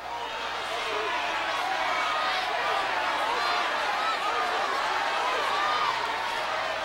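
A studio audience on The Price is Right shouts and yells loudly and continuously, a dense wall of overlapping voices.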